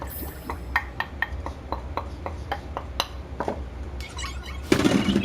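Cut bok choy tumbles into a cooking pan, a run of sharp light clinks and taps at a steady pace, ending in a louder rustling clatter as the greens land.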